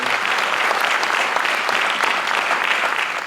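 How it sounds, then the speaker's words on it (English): A crowd applauds Coach Lowry at a community leadership event, many hands clapping in a dense, even roar that holds steady and loud for the whole stretch. "If y'all would give Coach Lowry a round of applause."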